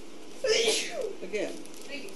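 A single sneeze bursts out, followed by a person speaking briefly at close range.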